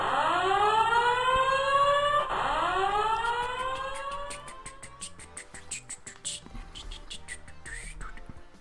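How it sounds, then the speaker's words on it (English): Alarm siren in the video game Sonic Unleashed wails upward in two rising sweeps, then fades into sparse clicks and short electronic blips. "How many times do I sound the alarm?"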